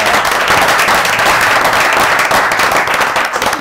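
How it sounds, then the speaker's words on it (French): A crowd at a pétanque event applauds, loud and close, with many hands clapping in a thick continuous roar that holds steady for the whole stretch. "On peut encore l'applaudir."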